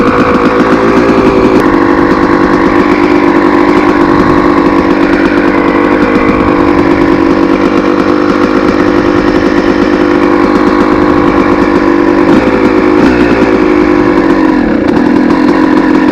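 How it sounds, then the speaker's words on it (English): A 2002 Honda CR250R two-stroke dirt bike engine idles steadily and loudly after a kick start, a continuous raspy burble with slight fluctuations and no talking. "Once it gets warmed up, the idle will go back down."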